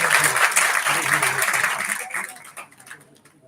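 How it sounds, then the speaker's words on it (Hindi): An audience at a Hindi Diwas poetry gathering claps in welcome, a fairly loud burst of applause that thins out and fades away over a few seconds. "तालियों के माध्यम से स्वागत कीजिए और इस कार्यक्रम का आगाज कीजिए।"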